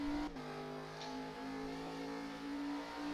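A V8 ute race car engine on the front straight at the Red Bull Ring, sounding as a steady, droning close-up roar held at high revs, with a brief gear-change dip near the start.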